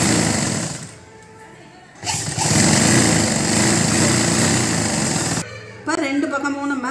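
Sewing machine stitching the lining of a Poonam saree blouse front, a steady mechanical whir running through most of the stretch with brief pauses, while someone talks over it.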